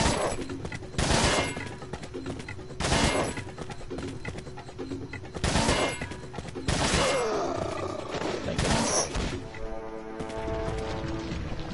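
TMP submachine gun fire in Resident Evil 4 while playing as Ada Wong: several short loud bursts spaced a second or two apart, followed by heavier crashing impacts and enemy noise near the end.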